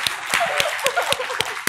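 Brief scattered clapping from a small school audience at a virtual academic exhibition, a few sharp separate claps over a short span with faint voices underneath.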